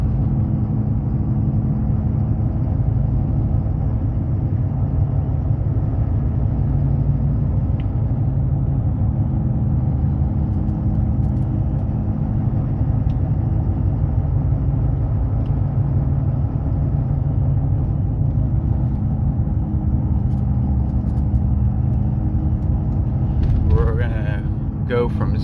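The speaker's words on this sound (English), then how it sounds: "That would quiet the tire noise down quite a bit" A 2011 Ford F250 truck on mud tires drives along with a steady, droning low rumble of road and tire noise that holds evenly throughout.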